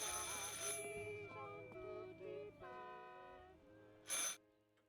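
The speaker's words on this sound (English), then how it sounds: "I should pick up the phone but remain silent." A telephone rings in the game Martha Is Dead, a bright electronic bell tone sounding at the start and again near the end, set against a sustained melodic musical backdrop with no one speaking.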